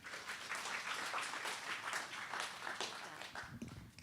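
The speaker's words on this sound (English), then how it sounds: "Give yourselves a round of applause." Audience applause at a film and media town hall meeting, a steady wash of many hands clapping at moderate, distant level for several seconds before tapering near the end.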